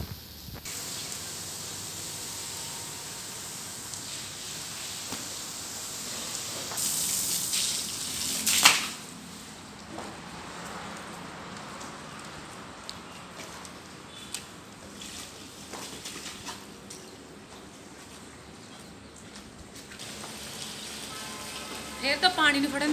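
Hissing spray of pressurized water while a Pakistani bully dog is bathed outdoors, a steady wet rush running throughout with a louder burst partway through.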